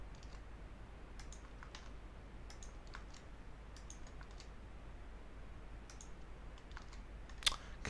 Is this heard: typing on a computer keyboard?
yes